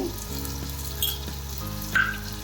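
Stuffed brinjal simmers and fries in its gravy in a pan, giving a steady close sizzle, with two bright metallic clinks as a spoon stirs and taps the pan.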